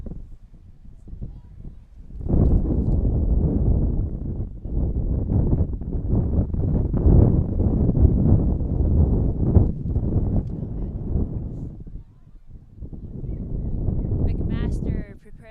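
Gusty wind sweeps across an outdoor ultimate frisbee field during a women's division university championship match, buffeting the microphone with loud low rumbling surges that rise and drop away in bursts.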